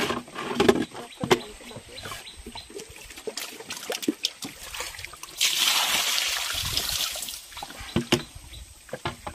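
Water is poured onto a boat on a Sundarban river during fishing, a splashing gush in the middle amid scattered knocks, trickles and handling noises, with some faint voices.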